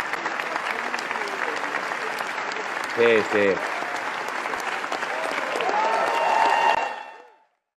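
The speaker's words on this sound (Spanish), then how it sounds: "tirame un aplauso glamoroso" Studio audience gives sustained applause, a dense steady clatter of many hands that swells toward the end and then cuts off, with brief speech over it partway through.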